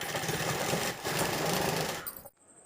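A sewing machine running a fast continuous stitch along a pillow cover seam, a close rapid mechanical buzz that pauses briefly, resumes, then stops near the end.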